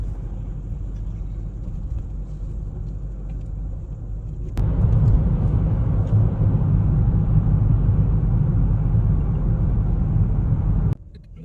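Heavy road traffic beneath a bridge by the Thames in central London: a steady, loud, close rumble of passing vehicles that swells partway through and then drops off abruptly near the end.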